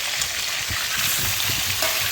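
Chicken pieces fry in refined oil in a pan for butter chicken. A dense, loud, close sizzle hisses steadily, with faint bubbling pops underneath.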